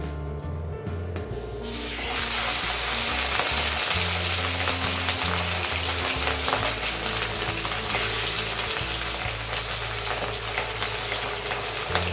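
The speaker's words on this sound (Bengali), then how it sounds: "সর্ষের তেলটা গরম হয়ে গেছে এবার একে একে আমি মাছগুলোকে তেলে ছেড়ে নেবো" Pieces of rui fish dropped into hot mustard oil, which bursts into a loud, spraying sizzle after a quiet start and keeps frying steadily and close up.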